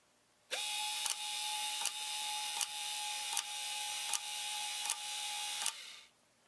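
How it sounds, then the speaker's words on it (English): A motor in a Mills golf ball slot machine runs steadily for several seconds, and its ratchet advances with seven evenly spaced clicks over the hum. The sound is close and isolated, then winds down and stops. "we should see this motor do 7 complete revolutions, and this ratchet will advance by 7 positions."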